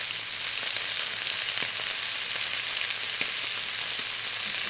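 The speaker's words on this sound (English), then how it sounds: "Man, is that sizzle just super loud?" Meat sizzles while frying in a pan, a loud, steady broadband hiss with scattered small pops throughout, with no voices over it.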